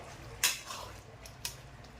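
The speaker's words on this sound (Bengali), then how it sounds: "এবার একটু নাড়িয়ে দেব" Faint spoon clinks against a pan while palak paneer with cream is stirred, two brief metallic taps standing out over a quiet background hiss.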